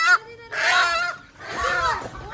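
Chickens and chicks squawk loudly while being caught, in two long, harsh, honking bursts separated by a short gap, close to the listener.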